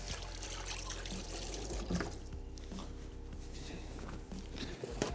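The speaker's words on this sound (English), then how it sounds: "And I need to wash my hands." Water runs from a kitchen tap as hands are washed, a steady soft trickle and splash close by, with faint handling noises and no talking.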